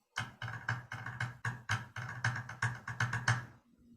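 About a dozen sharp, evenly spaced hits on a hollow plastic bucket, bright and ringing, played alone in a steady beat and then stopping.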